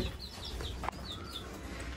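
Chickens cluck faintly in the background at a home with caged pet birds, several short calls over a low steady hum, distant and quiet.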